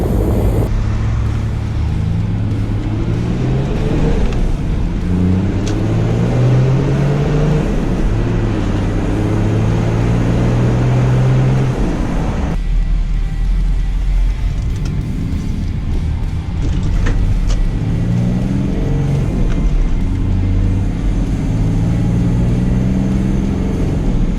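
A tuned Toyota Land Cruiser 105 series engine pulls through repeated rising acceleration sweeps, its loud low drone climbing and dropping as gears change, with wind rush over the steady noise.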